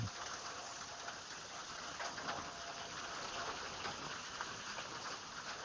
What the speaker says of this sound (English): I can still hear it hitting. No, it's pouring down.